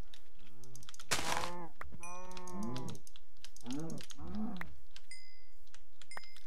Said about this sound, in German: Kühe.